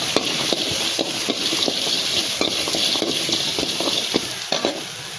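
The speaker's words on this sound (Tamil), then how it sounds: "வெங்காயம் போட்டு நல்லா வதங்கட்டும்." Small onions sautéing in oil in a pan, a steady close sizzle broken by regular scraping taps of a spatula stirring them.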